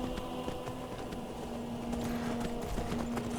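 Horse hooves clip-clop at a steady trot in the modded Skyrim Special Edition game, a quiet rhythmic clatter over a low hum of game sound.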